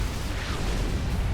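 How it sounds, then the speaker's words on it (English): A massive explosion in a Supreme Commander 2 cutscene that wipes out an army, a dense, roaring rumble that is loud and sustained for the whole moment, with no speech over it. "That explosion just took out half of my army!"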